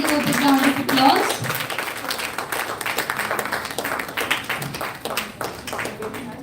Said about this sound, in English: I request the audience to please give a big round of applause.